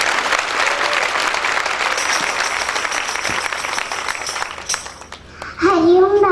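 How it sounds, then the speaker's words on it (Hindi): An audience at a birthday celebration claps loudly and steadily, a dense close applause that fades near the end before a voice begins. "जोरदार ताली बजाओ।"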